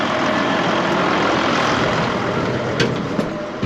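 A farm tractor with a recently repaired front axle idles nearby, giving a steady, loud low rumble with a couple of brief knocks near the end.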